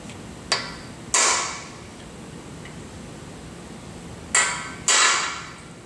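A freeze plug is driven into an engine block for a 408 stroker build by hammering on a socket. Four sharp metallic strikes ring out close and loud in two pairs, with quiet pauses between them.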